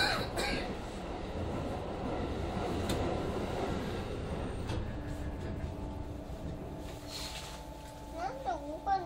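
A Keikyu N1000 electric train with Siemens GTO-VVVF drive rumbles steadily nearby, then slows with a rising whine and squealing brakes as it stops at Horinouchi, with a voice briefly in the background.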